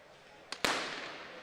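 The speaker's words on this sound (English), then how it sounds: "Hoping for a gun to indicate the start of racing." Starting gun at an outdoor track cycling scratch race: a faint sharp pop followed by a louder crack a moment later, both heard from a distance and trailing off in open-air echo.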